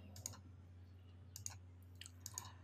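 Soft computer keyboard key presses while deleting HTML code, a few light clicks in small clusters over a steady low electrical hum.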